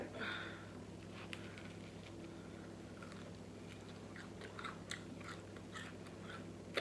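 Crispy fried fish bitten and chewed close to the mic, a series of faint crunchy bites and chewing crackles under a low background hum, with no talking.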